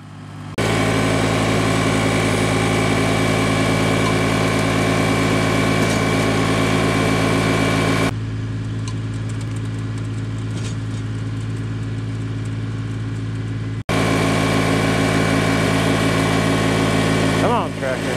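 A compact John Deere tractor engine runs loudly and steadily with a strong droning hum, briefly shifting in tone as it labors pulling out a stump, with no talking.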